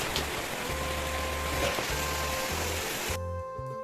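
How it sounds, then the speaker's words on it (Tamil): Heavy summer rain falls in a dense, steady hiss that fills the scene and then cuts off abruptly near the end, with soft background music running underneath. "எவ்வளோ சூப்பராக மழை பெய்யுது பாருங்கள்."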